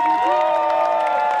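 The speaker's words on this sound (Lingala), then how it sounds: "saluer sa mémoire à travers des acclamations frénétiques accompagnées des cris de joie" An audience cheers and applauds in memory of Papa Wemba, a loud crowd roar with a strong held voice or whoop running over it for the whole short burst.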